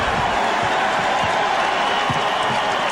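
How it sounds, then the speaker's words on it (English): Steady arena crowd noise with applause at a Knicks home game at Madison Square Garden against the Suns late in the fourth quarter, a broad continuous wash of clapping and murmur with faint thumps of a bouncing basketball. "And the Knicks hearing the applause."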